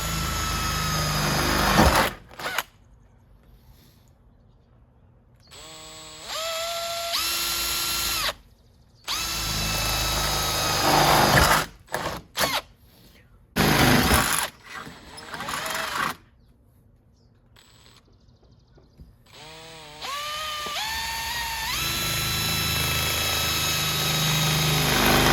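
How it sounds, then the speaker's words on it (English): A power drill boring holes for exterior trim on an entrance door, running in repeated bursts of whining motor speed that rise and fall, separated by short quiet pauses, loud and close with no talk. "so I'm going to try and drill those now."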